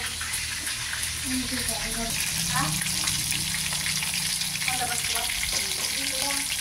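Pieces of malasugi (marlin) frying in hot oil, a continuous dense crackle and hiss running throughout, with people talking over it.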